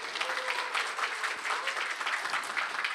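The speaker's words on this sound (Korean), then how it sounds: "박수로 환영해 주시기 바랍니다." Audience applause welcoming judges at a Korean-language speaking contest for international students, a steady wash of many hands clapping in a hall, continuous and moderately loud for the whole stretch.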